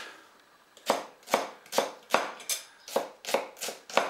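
A knife with a broad 5 mm blade chopping onions on a board: about nine crisp, evenly spaced strokes, close and fairly loud, with no voices.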